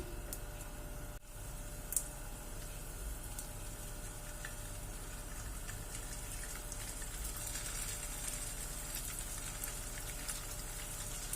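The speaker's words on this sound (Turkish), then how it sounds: "Köftelerimizi patates kızarttığımız yağda biraz kızartıyoruz." Meatballs fry in a pot of oil left over from frying potatoes, giving a steady, even sizzle and hiss throughout with faint pops and crackles and no voices.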